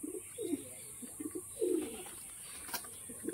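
A pigeon coos softly in a series of low, throaty burbles at a loft, fairly faint against a constant high hiss of background noise, with no talking.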